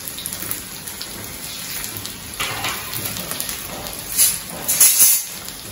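Mustard seeds, dried chili and onion sizzle in hot oil in a pan for a South Indian greens and raw mango dish, a steady crackling fizz with louder spitting bursts toward the end.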